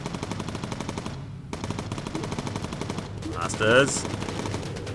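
Bomber gun turret firing in the video game Bomber Crew, a sustained rapid rattle of machine-gun bursts with a brief pause, loud and close, while a voice speaks briefly.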